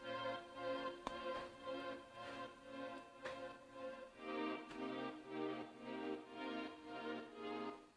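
Chill synth loop pulled from BandLab in the same key as a pad, soft sustained chords swelling in a gentle repeating rhythm with a few faint percussive ticks, quiet and without voices.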